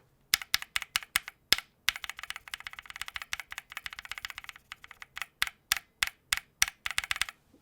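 Mechanical keyboard with modded switches and a noticeable spring ping, typed on in a steady run of close, crisp clacks that speed into a dense burst midway before settling back to evenly spaced keystrokes, with no talking.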